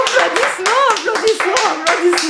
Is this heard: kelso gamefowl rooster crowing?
no